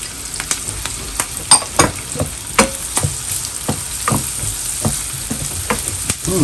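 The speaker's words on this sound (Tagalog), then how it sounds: "Lakasan ko konti, medium heat. Lagay ko na din itong bawang." Garlic frying in a pan on medium heat while cooking creamy beef with mushrooms: a close, loud sizzle punctuated by repeated sharp clacks and scrapes of a spatula against the pan at an irregular rhythm, without talking.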